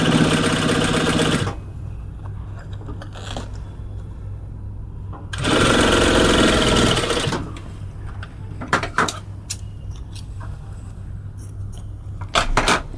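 A sewing machine stitches a pocket lining onto a bag panel in two loud, steady bursts of rapid needle chatter, with quieter handling clicks and rustles between runs.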